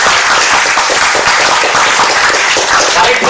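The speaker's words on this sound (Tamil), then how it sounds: "அதுக்கு நீங்க ஒரு கைதட்டு கொடுத்த" Loud, dense audience applause from a large crowd at a Tamil talk event fills the whole stretch, steady and unbroken with no pauses and no audible speech.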